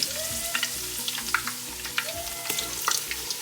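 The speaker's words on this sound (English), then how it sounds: "So we're going to fry the eggplant now." Eggplant fries in hot oil with a steady close crackling sizzle, accompanied by occasional stirring clicks and a faint rhythmic hum in the background.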